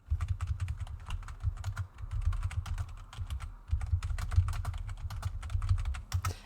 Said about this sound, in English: And I do hope my typing is not too thunky.